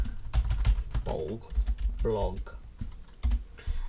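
Keys clatter on a computer keyboard in quick, uneven bursts of close taps while someone speaks intermittently over the typing.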